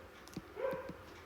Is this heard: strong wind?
no